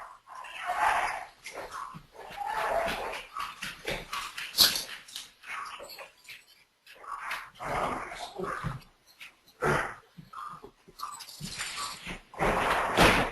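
A dog in a room gives intermittent whimpers and short vocal bursts, fairly faint and separated by quiet gaps.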